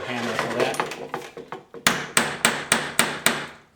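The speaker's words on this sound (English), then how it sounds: "Now usually I use a regular hammer for that." Steel hammer taps a wooden peg into a window sash, a run of sharp, evenly spaced strikes, close and loud, first lighter and then firmer, with someone talking during the early taps.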